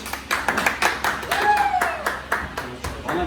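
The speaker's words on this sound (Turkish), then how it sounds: "Alkış." Audience clapping at a live singing competition show, uneven rhythmic claps from a small group, close and fairly loud, mixed with cheering voices and some chatter.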